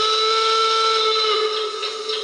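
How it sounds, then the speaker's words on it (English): An O gauge model locomotive's DCC sound decoder plays a steady, loud steam whistle, a sustained hissing tone that holds for over two seconds before wavering slightly near the end. "Different whistles on 14 and 15."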